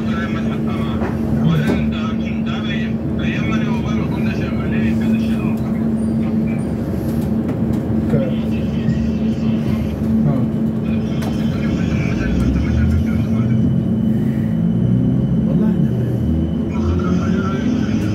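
First Group class 455 electric train standing at its final station stop, a steady loud rumble and hum of the idling unit with mechanical clicks, shifting tones near the end as it settles.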